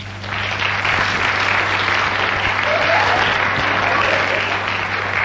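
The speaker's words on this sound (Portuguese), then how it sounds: "Isso merece palmas." A TV studio audience applauds steadily for around five seconds, a dense, even clatter of many hands with a faint low hum underneath and no voices.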